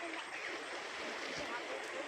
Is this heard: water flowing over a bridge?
yes